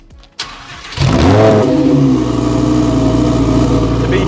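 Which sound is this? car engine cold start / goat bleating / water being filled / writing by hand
car engine cold start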